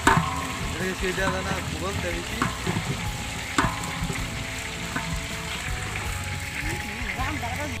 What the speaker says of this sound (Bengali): মাংসগুলো আমরা ভালো করে কড়া করে ভেজে নিয়েছি